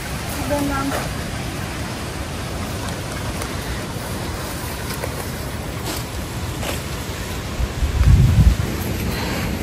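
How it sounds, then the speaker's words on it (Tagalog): Strong wind outdoors on the way home from fishing, a steady roar buffeting close to the recording device, swelling into a louder gust near the end, with some talking faintly beneath. "Grabe po kalakas ng hangin."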